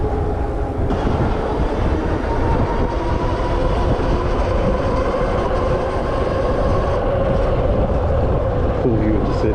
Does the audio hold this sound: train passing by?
yes